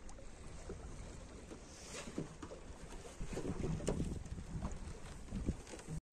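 A small boat moving along a fast-flowing river during a fishing trip, with steady low water wash and wind rumble against the microphone, a slightly louder surge midway, ending in a sudden cut.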